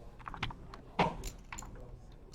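Keys clacking on a computer keyboard during a live poker final table broadcast, a few scattered soft taps and one sharper click over quiet room noise.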